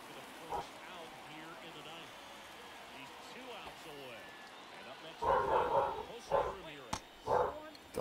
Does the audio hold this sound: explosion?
no